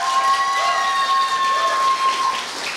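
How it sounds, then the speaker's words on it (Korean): Applause from an audience at a middle school students' speaking contest at Korea University: a steady, dense wash of clapping that lasts the full stretch, with a faint thin tone ringing through it. "박수 한 번만 더 보내주시면 더 힘이 날 것 같습니다"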